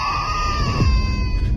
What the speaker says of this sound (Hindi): उसके तीनों बच्चे चीख रहे थे।